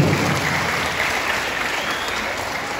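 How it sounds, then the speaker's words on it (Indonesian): Steady, dense applause from a school audience at a parents-and-school gathering at SMAN 5 Semarang, a continuous wash of many clapping hands held at an even level for the whole stretch. "Tepuk tangan dulu."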